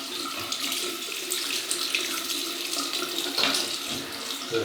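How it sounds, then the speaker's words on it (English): Cold water runs steadily from a tap into a sink for rinsing a Feather adjustable double-edge razor, a continuous splashing hiss heard alone. "Cold water rinse."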